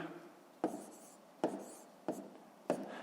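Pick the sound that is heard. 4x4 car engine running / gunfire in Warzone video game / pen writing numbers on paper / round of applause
pen writing numbers on paper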